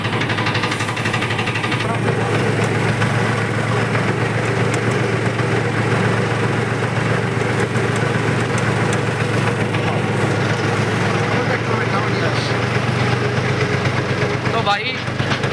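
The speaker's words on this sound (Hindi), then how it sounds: "तीसरे गियर में चल रहा है भी 1000 RPM पे ट्रैक्टर पूरा ऊपर चला हुआ" A tractor engine running in third gear at about 1000 RPM, working a field with a trolley being loaded with soil. It gives a loud, steady, close drone that holds without a break from start to finish.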